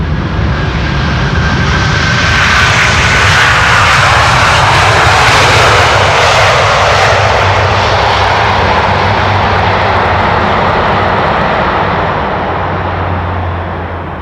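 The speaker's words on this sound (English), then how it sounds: "That most definitely was a loud landing." A plane landing at Amsterdam Schiphol Airport on a sunny, crosswind day, a loud roaring aircraft engine rush that swells close overhead and holds steady before slowly easing off, with no talking.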